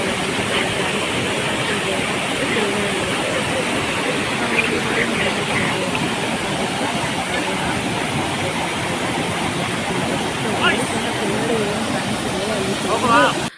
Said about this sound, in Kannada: ನೀರು ಫಾಲ್ ಆಗುತ್ತಂತೆ. ಇನ್ನು ಮಳೆಗಾಲ ಜಾಸ್ತಿ ಆದಷ್ಟು ಫುಲ್ಲು ನೀರೆಲ್ಲ ಹರಿತಾನೇ ಇರುತ್ತಂತೆ.